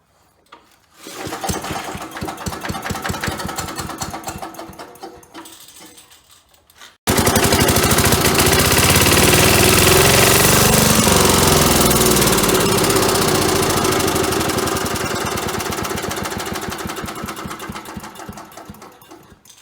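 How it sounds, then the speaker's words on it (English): Small engine firing up after gas is poured into the carburetor, a rapid rattling run that sputters out, then a second start that roars loudly and steadily before slowly fading, close by with no talking. "So I'm going to put a little gas down the carburetor there and see if it'll fire up here"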